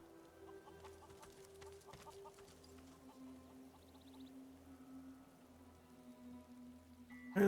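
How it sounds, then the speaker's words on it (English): Chickens clucking in the fantasy role-playing game Divinity: Original Sin 2, short faint clucks over a quiet ambient hum, ending in a sudden louder burst. "I was gonna say, are those chickens?"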